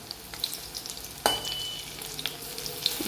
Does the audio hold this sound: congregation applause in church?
no